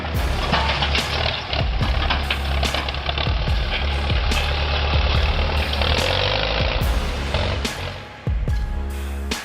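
The heavy diesel engine of a tracked MTZ-82 tractor runs continuously nearby with a deep, rumbling drone, punctuated by occasional clanks and shifts in intensity.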